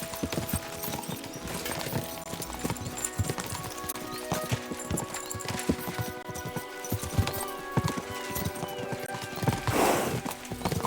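Horses gallop with rapid, continuous clip-clopping hooves in a medieval role-playing video game, with clattering tack and a brief whinny, loud and close throughout.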